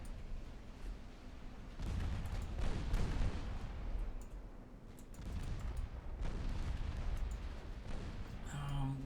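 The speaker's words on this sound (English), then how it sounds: "We're hammering the battleship now with our battlecruisers." Naval gunfire in a warship video game as battlecruisers shell a battleship, a low rumbling series of booms and cannon blasts, fairly distant and muffled, swelling and fading in waves across the stretch.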